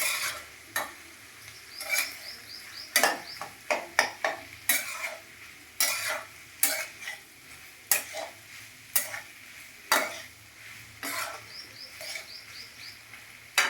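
Bitter gourd with masala stirred in a frying pan, with rapid, irregular clacking spatula strokes against the pan over a faint sizzle, close and crisp, with occasional bird calls in the background.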